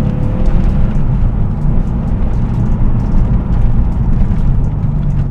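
A Porsche 911 Carrera (993) engine roars continuously as it accelerates, a loud, dense growl with steady rumble and no voices.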